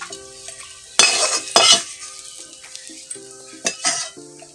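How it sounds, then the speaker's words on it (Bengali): A spatula scrapes and clanks against a pan in a few sharp bursts, over a soft sizzle of potatoes and bitter gourd frying in a quiet kitchen. "আলু আর করলা ভাজাটা হয়ে গেছে দারুণ হয়েছে"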